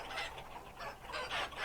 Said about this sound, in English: Ooh, the chickens.